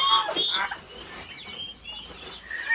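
Chickens clucking and calling at feeding time while yellow corn is given, several bird calls near and fairly loud at the start, then lighter scattered clucks against quiet background.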